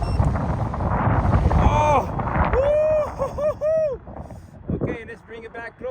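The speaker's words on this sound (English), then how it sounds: "Oh, woo, it's getting much windier." Gusting wind buffets the microphone around a flying 1:27 scale Carmanon OH-58 Kiowa RC helicopter outdoors. Loud rumbling gusts come first, then a voice exclaims over the calmer wind.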